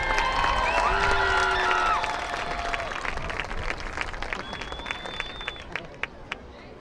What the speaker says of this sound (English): Let's have a big round of applause for Justin Hauser and Kaya Armstrong.